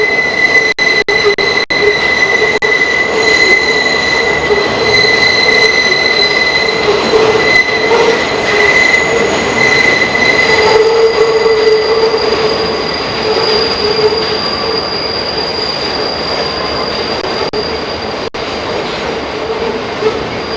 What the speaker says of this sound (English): The good old sounds of New York City subway.